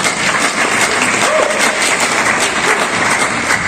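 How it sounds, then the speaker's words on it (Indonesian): An audience in a library outreach session applauding, a dense steady wash of clapping held loud throughout with no voice over it. "Kasih aplaus dulu untuk Biden"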